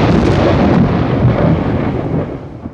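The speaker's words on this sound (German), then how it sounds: "Der Blitz hat eingeschlagen." A lightning strike brings a deep, loud rumble of thunder that rolls and slowly fades, with no voices present.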